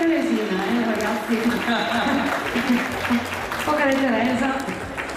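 Applause from a crowd at the Discoteca Parioli during a live orchestra evening, steady clapping running underneath someone speaking into a microphone, with music-like tones woven through.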